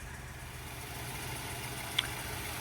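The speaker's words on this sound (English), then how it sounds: "It's a nice and smooth running engine" A 2010 Mazda 3i Touring engine idles smoothly and steadily with a low, even hum, close by and uninterrupted apart from one faint click.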